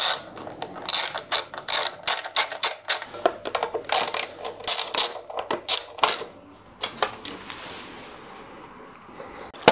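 Ratcheting tool driving screws while fitting the chain guard on a Surron Ultra Bee electric dirt bike, rapid loud clicking bursts in quick runs, then quieter handling sounds.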